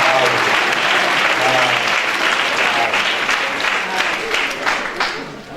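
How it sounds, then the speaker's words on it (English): Sustained applause from an audience of interns at a morning talk, many hands clapping densely and fairly close, then gradually thinning and fading toward the end. "Clap hands for me."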